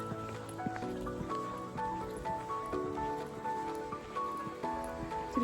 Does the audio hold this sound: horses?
yes